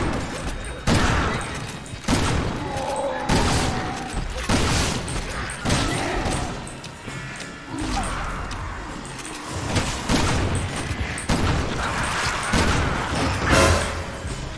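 Repeated loud shotgun blasts from Resident Evil 6, roughly every one to two seconds, each a sharp burst followed by a brief rumbling tail.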